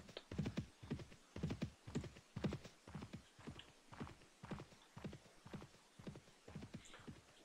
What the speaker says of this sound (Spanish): Ahí va un caballo.